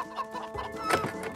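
Chickens clucking close by, a few short throaty calls overlapping over a brief moment.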